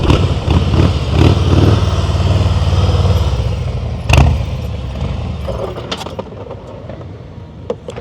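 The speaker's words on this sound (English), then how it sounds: "Stop blipping the throttle." A motorcycle ridden at slow speed during a riding-skills practice session in Maryland, with a loud close engine and repeated throttle blips rising over a steady idle, then settling into lower rumbling with a few sharp mechanical clicks.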